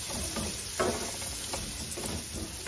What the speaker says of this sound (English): I've got a piece of butter, okay, and I'm putting in all the onions. This is to fry the mince up